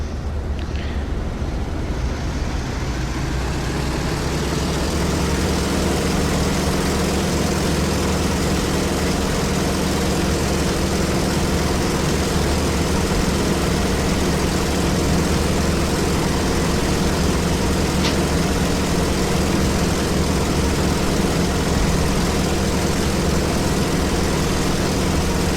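A T-28 propeller aircraft in a flight sim, its engine roaring at full power through the takeoff roll, a loud, steady, droning hum with a strong low throb that continues unbroken with no talking.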